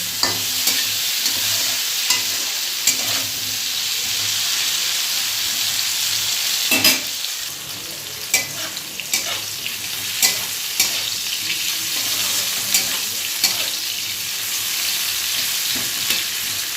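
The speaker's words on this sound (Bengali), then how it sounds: "করলাগুলো আরও ভাজা হবে" Bitter gourd slices fry in hot oil in a pan, a continuous close sizzle broken by scraping stirs and occasional clacks of the spatula, steady throughout with no voices.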